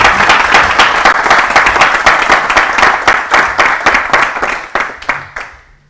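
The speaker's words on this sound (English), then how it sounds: "let's give them a bigger round of applause" Sustained applause from an audience at a home devotional program in Ashburn, Virginia, dense and steady clapping throughout before thinning and fading out at the end.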